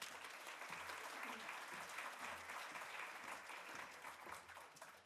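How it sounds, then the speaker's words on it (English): An audience applauds a speaker at a library event, a continuous patter of many clapping hands at moderate distance with a faint low hum beneath, steady throughout. "Let's give her a round of applause"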